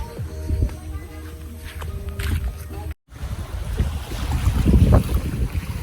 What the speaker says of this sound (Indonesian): Tapi karena di pantai jadi angin guys,